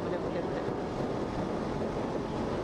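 Wind buffets a microphone during a ride on a KTM Duke 125 motorcycle, a dense, continuous roar of rumbling noise that fills the short stretch without pause.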